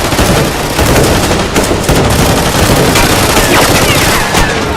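Rapid, sustained gunfire from a Lego Spider-Man animated battle, dense automatic bursts filling the whole stretch at close range and high volume, with shouted voices faintly mixed underneath.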